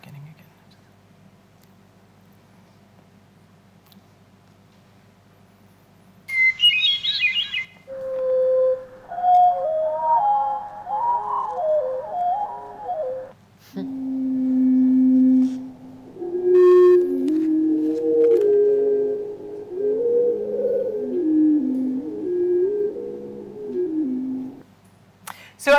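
Recorded hermit thrush song: clear whistled phrases at shifting pitches, each starting abruptly and ending in fluttery trills, played back one after another with short gaps and no talking over them.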